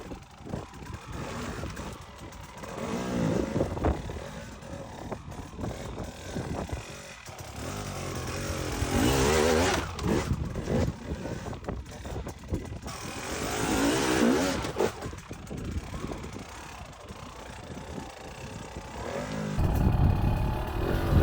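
Enduro dirt bike engine revving and pulling through first and second gear on a hard enduro line, rising and falling throttle bursts at close range, with someone talking over the engine at times.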